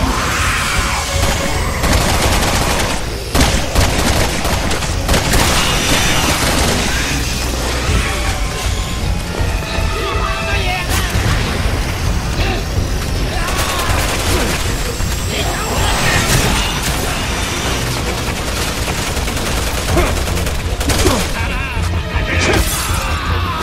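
Gunfire in the Resident Evil 6 video game, loud bursts of shots and crashing impacts layered over game music and voices through a chaotic firefight.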